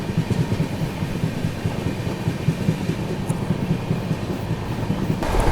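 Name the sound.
GT Express train leaving Betul railway station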